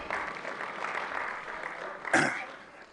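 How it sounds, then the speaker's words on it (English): An audience claps in a steady, sustained round of applause at a business event in East Africa, with a brief louder burst of noise near the end. "I thought you would have clapped for us."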